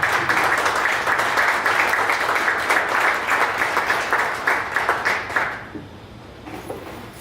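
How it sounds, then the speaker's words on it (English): A standing audience at a startup pitch gathering applauds the presenter, a full, steady round of clapping that tapers to scattered claps and fades out near the end. "we stand up and we give a round of applause for our presenter"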